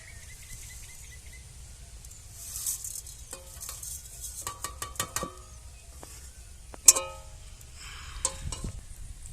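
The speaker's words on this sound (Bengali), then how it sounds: "আমি এখানে নিয়ে নিয়েছি জিরে পানমৌরি আর শুকনো লঙ্কা ধনে সব ভেজে নেব শুকনো কড়ায়" Whole cumin, fennel seeds, dried red chilies and coriander seeds roast in a dry pan, with scattered light rattles, scrapes and stirring clicks over a quiet background, including a few sharper knocks.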